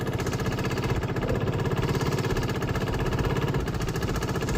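A Gilera DNA scooter engine runs at low revs after a fuel pump repair, giving a steady, loud, rhythmic putter close by with no talking.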